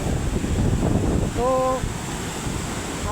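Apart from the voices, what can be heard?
flooded Sabarmati river water flowing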